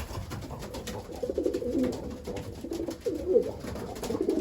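Racing pigeons cooing inside a loft with breeders and young birds, a steady layered murmur of coos swelling and fading in bursts, close and continuous with no talk.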